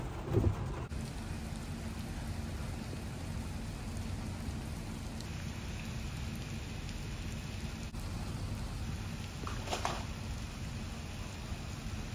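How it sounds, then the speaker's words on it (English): Heavy rain pours down steadily in a broadband hiss with low rumbling underneath, loud and continuous throughout, with a brief thump near the start and no voices. "raining a lot. It's pouring."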